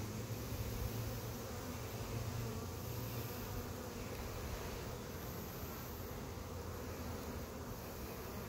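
Honey bees buzz around an open hive full of brood, a dense continuous drone of many insects close by and steady throughout, with no voices.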